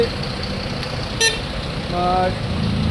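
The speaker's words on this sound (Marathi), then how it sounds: "सध्या ट्रॅफिक जाम झालेलं आपण पाहत आहात." A traffic jam on a road in Pusegaon: a low rumble of idling vehicles, with a short, close horn toot near the end, under people talking.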